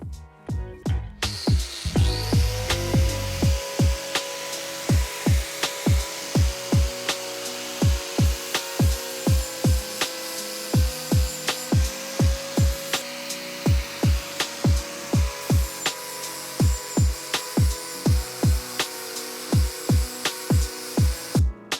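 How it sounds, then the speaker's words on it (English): Grinding metal parts for a custom subframe on a Honda CB400 motorcycle, a continuous whine cut by rapid regular pulses of abrasive contact, loud and close with no talking. "So I'm going to grind these at a nicer angle, so these all line up a bit better."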